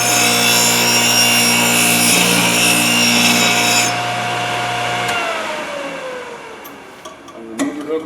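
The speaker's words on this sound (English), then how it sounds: "I'm going to do probably one pass first time just to see where I'm sharpening" A Thorvie AV-40 sharpening machine grinds a router bit tooth in a steady, close, high-pitched whine with a harmonic hum for about five seconds. The motor then spins down, fading with a few faint clicks.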